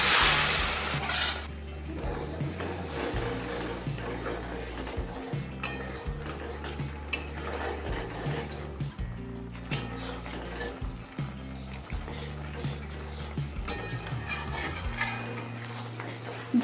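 A spoon stirs teasel gourd curry in a pan after a little hot water is added, with repeated metal scrapes and clinks against the pan and a soft sizzle over a steady tonal background.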